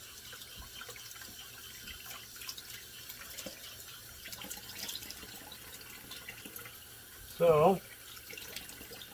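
Tap water runs into a sink for a rinse after a shave, a soft steady trickle and splash heard fairly close, with a brief louder gush near the end and a faint voice.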